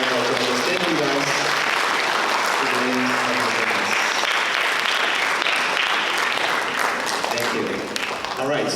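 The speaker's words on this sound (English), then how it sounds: "let's give them another round of applause for all of our judges" Sustained, loud clapping from a crowd honoring judges at a multicultural speech festival in a performing arts center, with voices and cheers threaded through the applause and a slight fade near the end.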